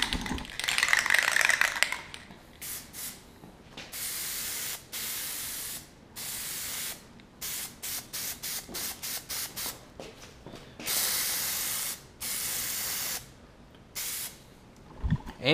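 Repeated bursts of spray paint misting a very light coat onto a GMC Yukon front end, loud close hissing passes of varying length separated by brief pauses, with no talking.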